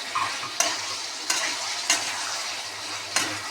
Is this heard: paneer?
yes